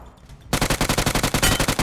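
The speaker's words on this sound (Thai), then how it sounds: "เสียงปืน" Automatic gunfire in the video game PUBG Mobile bursts in abruptly after a brief quiet lull, with about eighteen rapid, evenly spaced shots rattling loudly and close.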